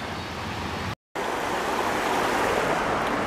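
River water rushes steadily and loudly around a gold panner standing near the middle of the river, with a broad continuous wash and one brief cut to silence.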